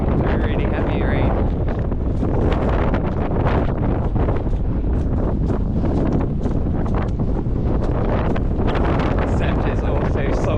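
Strong coastal wind buffets the microphone on a seaside walk with sea spray, a loud continuous roar of gusting, crackling wind noise.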